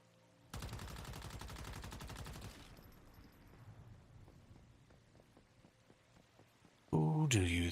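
Enemy gunfire aimed at the player in the survival shooter Once Human: a steady, loud automatic burst lasting about two seconds, then scattered faint shots and ambience, ending with a sudden loud blast.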